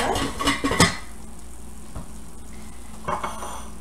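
A metal spoon clinks and scrapes against a dish as baked meatballs with pasta al forno are served, a quick cluster of clatters early on, then quiet with one more soft clink near the end.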